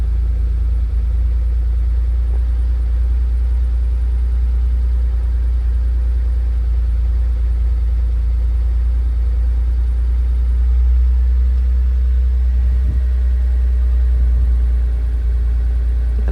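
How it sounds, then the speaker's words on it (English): A car with a questionably rebuilt engine idles high while out of gear, a steady low rumble holding close and loud throughout with no talk. "It's idling up again for some reason."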